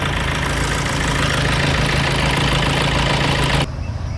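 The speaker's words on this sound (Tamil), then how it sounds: "வண்டி ஸ்டார்ட் பண்ணு" A diesel car engine idles close by with a loud, steady, low rumble and a faint knocking clatter, with no voices throughout.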